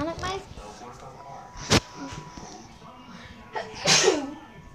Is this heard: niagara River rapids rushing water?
no